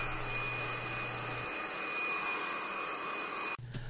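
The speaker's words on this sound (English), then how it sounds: "you can also use your heat gun to go and shrink that a little bit" A heat gun shrinking vinyl to form wave effects on an epoxy resin surface gives a steady, close airy blowing hiss with a faint whine, cutting out briefly near the end.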